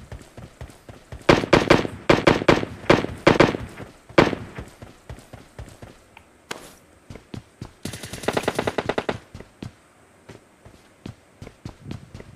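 Rapid bursts of video game gunfire crackle in quick volleys, with one dense automatic stretch near the end, loud and close over faint footsteps and clatter.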